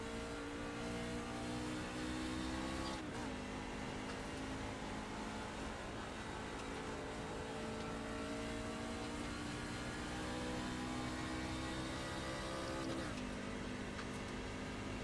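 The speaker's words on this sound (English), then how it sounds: "We'll try to get the RPMs up in this truck." A NASCAR race truck engine at Las Vegas holds a loud, steady high-RPM drone throughout, with two brief dips in pitch as gears shift near the start and end.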